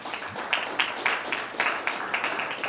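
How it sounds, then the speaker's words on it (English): An audience at a Pennsylvania political speech claps in an even, rhythmic beat. The sharp claps arrive about four a second, moderately loud over a soft crowd wash. "You can clap for that."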